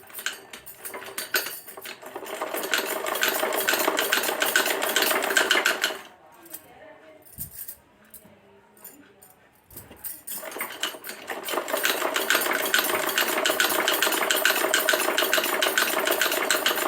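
A sewing machine stitches underwear fabric in a continuous loud mechanical whir, stops for several seconds while the cloth is shifted with small handling sounds, then runs steadily again at close range, with no talking.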